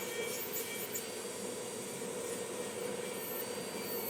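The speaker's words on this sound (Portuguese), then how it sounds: "Então, vamos lixando aqui, coloco a minha lixa bem paralela." A nail file rasps steadily across an artificial nail extension, held flat and parallel while shaping the free edge, a close, continuous scratchy rubbing with no speech.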